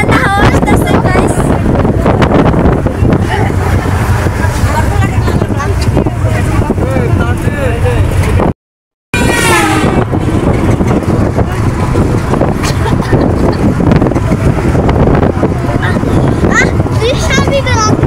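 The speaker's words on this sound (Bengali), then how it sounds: "অনেক ঠান্ডা হাওয়া আসতেছে" Strong wind buffets the microphone during a trip to a village, likely on a boat over water, a steady loud roar that runs throughout, with people talking over it and a brief dropout midway.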